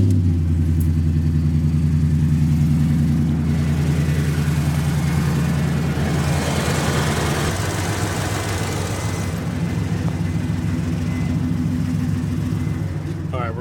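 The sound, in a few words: car engine running during power steering flush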